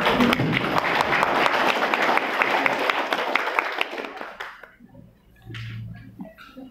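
Applause at an inauguration ceremony for cooperative officers in a hotel in Sokaraja, loud dense clapping for about four seconds that fades out, followed by a brief voice.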